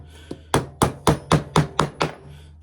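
Hammer driving nails into the side of a wooden cigar box for a cigar box guitar: a light tap, then six sharp, evenly spaced woody blows, close and loud with short ringing decays.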